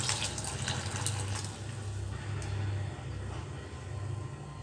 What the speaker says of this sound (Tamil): இந்த தேங்காய் பாலை இதில் சேர்த்துக்கலாம்.